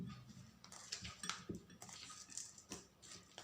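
A spoon stirs a dry home-remedy powder mixture for dry cough in a jar, giving soft irregular scrapes and light clinks at close range with no talk.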